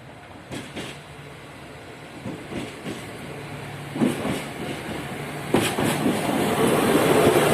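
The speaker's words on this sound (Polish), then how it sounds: "Wjeżdża pociąg osobowy kolei dolnośląskich relacji Jelenia Góra Kudowa Zdrój." A Koleje Dolnośląskie passenger train, unit SA 134 005 on the Jelenia Góra–Kudowa-Zdrój line, rolls into Polanica-Zdrój in Poland with rhythmic clickety-clack of wheels over rail joints, growing steadily louder as it approaches.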